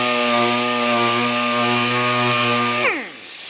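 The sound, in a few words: sanding plastic fender scratches with 80 grit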